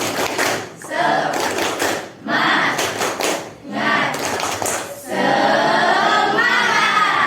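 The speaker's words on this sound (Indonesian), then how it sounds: "Tepuk semangat." A school class does a rhythmic spirit clap together: loud, close bursts of group clapping in patterned phrases with short breaks, ending in a long, steady stretch of clapping.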